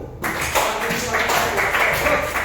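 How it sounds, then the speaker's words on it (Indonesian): Students in a classroom break into brief group applause, a quick burst of many hands clapping close by that fills the short moment, with voices mixed in. "Tepuk tangan buat tunggu."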